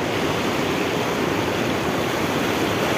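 The fast-flowing Banas river in flood rushes past in a dense, constant roar of water, loud and close, with no talk over it.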